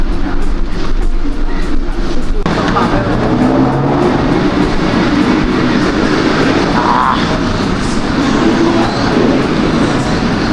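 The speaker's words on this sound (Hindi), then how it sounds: "ये हमें किसी मेट्रो के स्टेशन में है।" A metro train at a Bangkok metro station rumbles loudly and steadily, a deep rolling drone with shifting hum that stays close throughout, with some voices faintly underneath.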